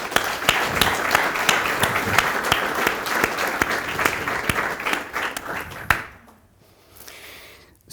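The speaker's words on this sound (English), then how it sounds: "I would like you to greet him with a great round of applause" A large audience breaks into sustained, loud applause to welcome a guest author at a panel discussion in Serbia, dense clapping filling the room for about six seconds before stopping abruptly and leaving near silence.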